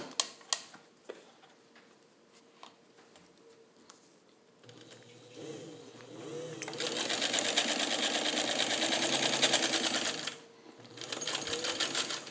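A Kenmore Rotary 117.55 sewing machine stitches dense coated nylon, revving into a loud steady whir for several seconds, pausing, then starting again, after quiet clicks and handling.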